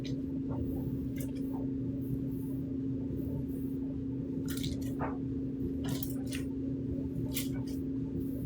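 Wet hair is scrunched by hand with styling product, giving repeated soft squelching and squishing bursts of water at an irregular pace, close up over a constant low electrical hum.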